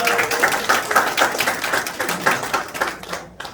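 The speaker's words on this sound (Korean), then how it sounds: "큰 박수 부탁드릴게요." An audience at a business meeting claps together in a fairly rhythmic, even beat, a moderately loud burst of applause that stops abruptly near the end.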